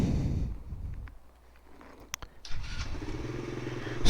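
A Grom clone motorcycle engine with a Nibbi carburetor starts up after a quiet moment, catching and settling into a steady low idle rumble that grows louder toward the end.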